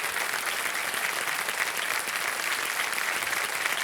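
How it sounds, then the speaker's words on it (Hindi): A television quiz show studio audience bursts into sustained, dense applause for a contestant, steady clapping filling the room without a break. "और जोरदार तालियां बज जाएं इनके लिए।"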